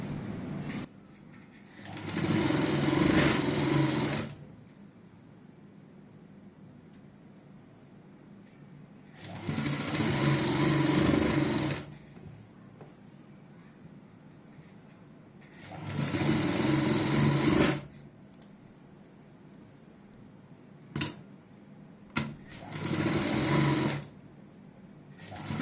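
A sewing machine stitches a kurti seam in loud whirring runs of a few seconds each, separated by quiet pauses, with a couple of brief clicks and short bursts near the end.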